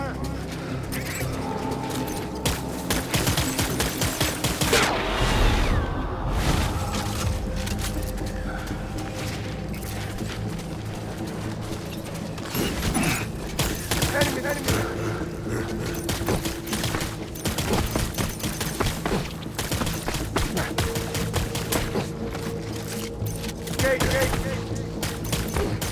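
Gunfire from the video game Death Stranding, with dense rapid shots and bursts mixed with mechanical clatter and game effects, continuing for about 26 seconds at moderate loudness, with voices intermittently over it.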